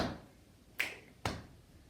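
Two crisp finger clicks from a body percussion routine sound close and distinct about half a second apart, after a softer rustling sound at the start.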